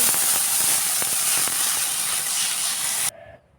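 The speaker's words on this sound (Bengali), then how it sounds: "শীতল ভাজা হয়ে গেছে, এখন একটু জল দিয়ে দেব।" Water poured into a hot wok of fried dried fish bursts into a loud, steady steam hiss that holds for about three seconds, then cuts off abruptly to near quiet.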